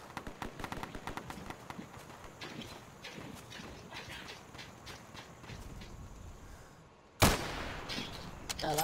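Gunfire in a shooting video game: a dense stream of sharp shot-like pops and clatter running throughout, with a sudden loud burst near the end.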